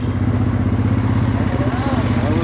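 A motorcycle ridden near Santiago airport in Chile gives a loud, steady engine drone with rough low rumble and wind, while a rider talks over it.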